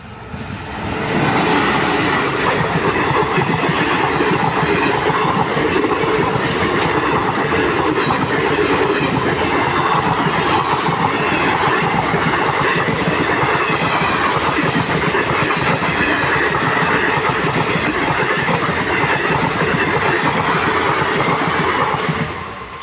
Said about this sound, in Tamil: கொஞ்ச நேரம் ரயில் வந்துச்சு.